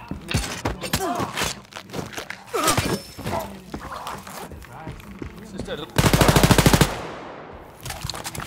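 Automatic gunfire in the shooter game Wolfenstein: Youngblood aboard a Nazi Zeppelin: a loud, rapid burst of machine-gun shots near the end, after sparse shots and impacts mixed with speech and combat noise.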